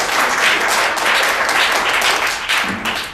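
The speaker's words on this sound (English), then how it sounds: "a round of applause" A round of applause from an audience at a club meeting, loud, dense clapping close by that swells and holds steady for a few seconds before easing slightly.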